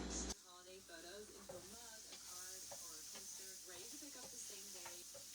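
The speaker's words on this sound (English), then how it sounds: "Just move them around so they don't burn." Onions frying in a pan for a tater tot casserole: a constant close hiss and sizzle, with repeated squeaky scraping as a spatula keeps them moving.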